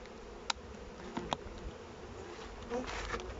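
Bees buzz softly around a hive, a faint steady hum with a few sharp clicks and taps.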